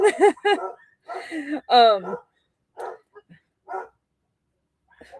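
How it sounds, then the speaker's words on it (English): Dogs barking in a home, several sharp barks and yips in quick bursts, near and loud, followed by fainter scattered barks. "I think I hear the Chihuahua across the street that is out and about"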